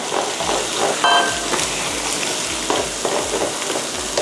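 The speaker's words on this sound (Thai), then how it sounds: "เติมไข่ไก่ลงไปค่ะ ตีให้แตกนะคะ" Beaten chicken eggs sizzle and crackle loudly in a hot pan while making salted-fish fried rice, a utensil scraping and stirring at an irregular rhythm.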